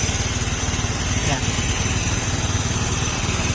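Honda Beat FI motorcycle engine running hot with a misfire, a close, loud pulsing idle with a steady rhythmic throb throughout.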